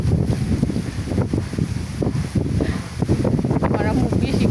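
Wind gusts outdoors under a cloudy, rainy sky, a steady rushing roar buffeting the microphone throughout, with a faint voice briefly audible beneath it.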